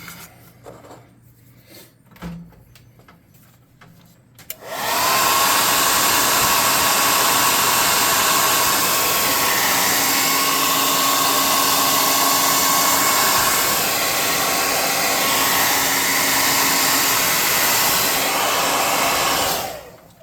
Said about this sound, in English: Now let's air gun this.